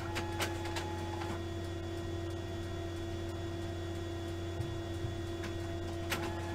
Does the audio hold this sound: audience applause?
no